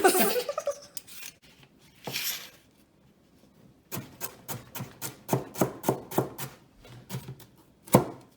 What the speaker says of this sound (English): Cutting the carrots.